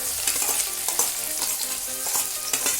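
Onion going into garlic already browned in a handi pot on a gas flame, giving a loud, dense frying sizzle with quick stirring scrapes throughout.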